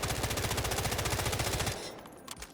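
Rapid automatic weapon fire from a gun in the shooter game Delta Force, with a loud, steady stream of close shots held for nearly two seconds before it cuts off, leaving a few faint trailing clicks.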